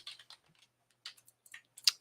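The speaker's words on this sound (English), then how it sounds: "I hear typing" Faint, distant typing on a computer keyboard, scattered soft key clicks in irregular small clusters with quiet gaps, no voices.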